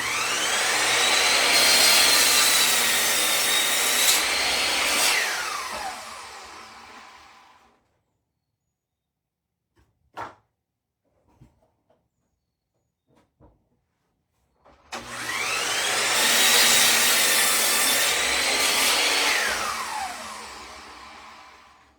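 Power saw cutting pyramid-shaped tops on 4x4 wooden posts, two long loud whining cuts of about seven seconds each, separated by a quiet gap with a few clicks and knocks.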